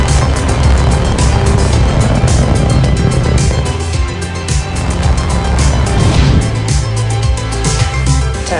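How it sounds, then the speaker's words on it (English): A SpaceX Falcon 9 carrying 52 Starlink satellites roars after liftoff, a loud, continuous broadband rumble and crackle that surges and eases slightly throughout. "Falcon 9 has cleared the tower."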